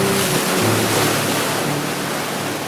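Ocean waves crash in a continuous, loud roar of surf, a dense unbroken wash with a low rumble beneath and no voices.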